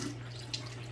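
Water runs steadily from a household kitchen tap during a washing chore, a continuous close rush with a faint hum beneath and a single brief splash partway through.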